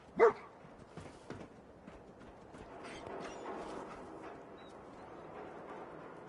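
Dogmeat, the dog from Fallout 4, gives a single sharp bark near the start, followed by quieter yips and rustling game ambience.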